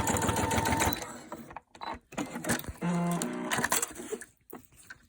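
A sewing machine stitching through layers of PVC fabric runs in bursts, with short stops and restarts between runs of rapid mechanical clatter, close and fairly loud.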